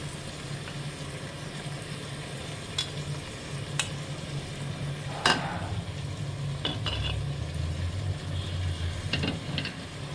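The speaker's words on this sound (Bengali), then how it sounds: "এবার আমি এটা ভালোভাবে নেড়ে নেব" Marinated mutton with onion, ginger, garlic and yogurt stirred in a pan for mutton kosha, a soft steady sizzle broken by scattered spoon scrapes and metal taps, fairly quiet with no voices.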